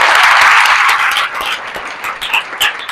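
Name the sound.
applause from the class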